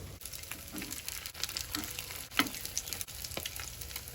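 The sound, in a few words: egg and Maggi noodles frying in oil in a frying pan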